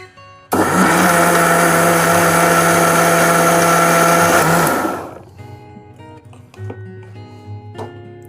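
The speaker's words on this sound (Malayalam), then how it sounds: "ഇനി നമുക്കിത് അരച്ചെടുക്കാം" A mixer grinder whirs loudly for about four seconds as it grinds cumin, salt and grated coconut, a steady high motor roar that starts abruptly and winds down, followed by quieter kitchen clatter.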